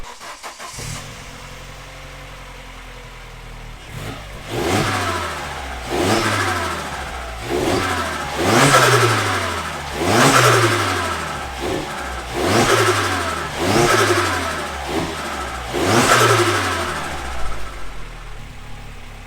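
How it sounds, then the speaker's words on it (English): A rebuilt Z20LET engine in an Opel Astra GSi starts and runs close by, revved in a series of rising and falling pulls. "So finally got the car running."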